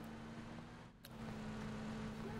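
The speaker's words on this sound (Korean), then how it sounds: "차 소리 난다." Car engine in the video game PUBG, a steady low motor hum with a faint tonal whine, fairly quiet and continuous, with a short dip midway.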